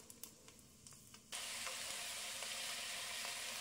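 Peeled garlic frying in oil for tomato pickle: a few soft clicks, then a sudden bright, steady hiss of sizzling that holds to the end, close and fairly quiet.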